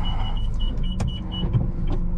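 Steady low engine hum from inside a manual car reversing slowly into a parallel parking space, with a faint high tone and a soft click, no talking.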